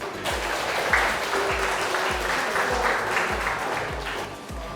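A classroom of students claps together after a role-play game about law enforcement, producing a sustained, lively burst of applause with steady rhythmic thumps running under the patter of many hands.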